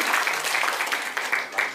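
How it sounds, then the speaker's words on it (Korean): A crowd at a political citizens' forum claps steadily and evenly throughout, a dense patter of many hands with no pauses. "박수로, 큰 박수로 맞이해주셨으면 좋겠어요"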